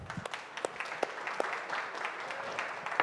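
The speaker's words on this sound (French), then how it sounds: "Je vous demande de l'applaudir." An audience claps for a presenter at a space-industry talk at the Paris Air Show, the sound fairly distant and moderate, with sharp individual claps standing out over a steady patter.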